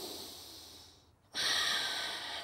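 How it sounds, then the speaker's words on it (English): Breathing in and out through the nose during a yoga pose, a close, soft hiss of airflow that fades, pauses briefly, then returns as a stronger exhale. "breathing in and out of your nose."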